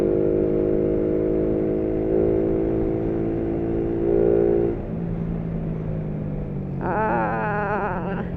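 A Yamaha Raider 150 motorcycle engine runs with a steady humming drone that shifts pitch midway, then a brief rise in revving near the end, heard close without speech.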